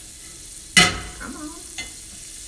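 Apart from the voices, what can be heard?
butter sizzling in a frying pan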